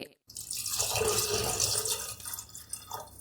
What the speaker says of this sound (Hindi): अब हम इसमें 1 गिलास दूध का शामिल करेंगे।